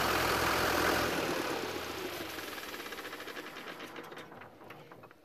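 A 1995 Ford Escort engine runs on a cold winter day, idling steadily near the microphone. Its broadband rumble is loud at first, then eases gradually lower over the few seconds, with no voices.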